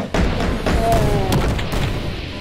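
A grenade launcher round explodes in DOOM with a deep, booming blast that rolls on and fades slowly, loud and close with faint trailing rumble.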